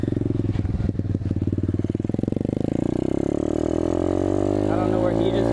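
A 2019 Apollo 125cc motorcycle engine revs loud and close, its sputtering idle pulses climbing into a rising, steady whine as the throttle opens; no voices are heard over it.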